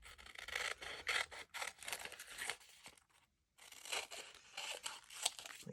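Scissors trim around glued paper on a cardboard-box junk journal, giving close, dry rasping snips and crinkles in irregular bursts, then a brief pause before the cutting resumes, with no talk.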